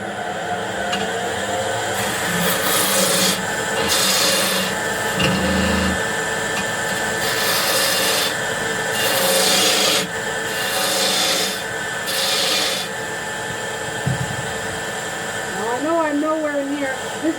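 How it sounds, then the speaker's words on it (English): A beading and parting tool cuts a tenon on a wooden handle spinning on a lathe, a continuous rough scraping hiss over the motor hum, with repeated louder bursts of cutting, close by and without talk. "So I just sharpened my beading and parting tool. So we're going to do some tenon work, making a tenon."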